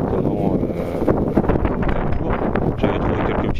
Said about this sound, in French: Alors il y a beaucoup de vent donc je me tourne pas dans l'autre sens.